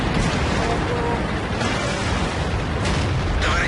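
Booming tank cannon shots in World of Tanks ring out amid continuous loud battle noise, with voices talking over the dense, rumbling mix.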